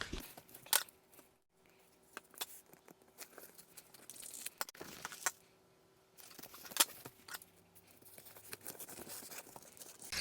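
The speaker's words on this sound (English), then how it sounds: "So I'll cut the rest of these." Scissors snipping through paper while cutting pieces for junk journal packs, with irregular close crisp snips and paper rustling separated by brief pauses.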